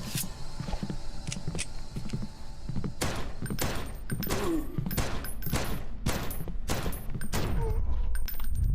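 Gunfire from a .45 in the video game Deathbloom, a series of loud, close, sharp shots fired at uneven intervals, several in quick succession, over a low background rumble.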